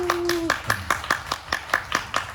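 Rhythmic audience clapping at a church worship service welcoming the praise team, about a dozen sharp even claps in steady beat, close and clear, with a brief sustained tone at the start.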